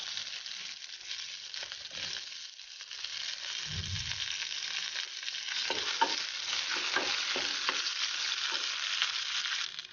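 Mustard seeds and curry leaves sizzle in hot oil, a steady loud hiss with crackling pops and spatters throughout, no talking.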